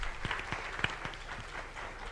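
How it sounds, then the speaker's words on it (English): Modest audience applause at a symposium session, a loose scattering of individual claps at moderate distance, fairly quiet and uneven over room noise. "Another round of applause, ladies and gentlemen."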